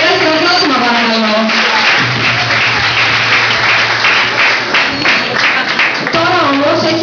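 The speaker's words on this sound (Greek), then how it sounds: "Ένα χειροκρότημα παρακαλώ." An audience applauding steadily for several seconds in a fashion styling show, with sustained dense clapping over music and a voice talking on top.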